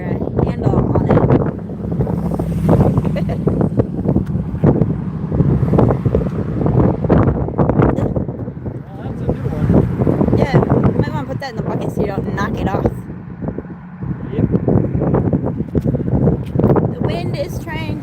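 Strong wind buffets the microphone steadily from a boat on a waterway, a loud continuous rumbling roar broken by brief gusts.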